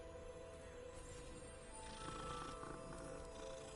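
Soft, steady cat purring from a cat in Hogwarts Legacy runs throughout, low and continuous beneath faint game ambience, swelling slightly partway through.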